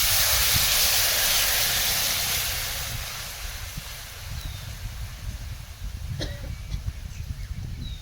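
Water, red chili powder and turmeric poured into a hot tempering of cumin, mustard seeds, garlic and coconut on a wood-fired clay stove outdoors, bursting into a loud steamy hiss that gradually eases into softer crackling.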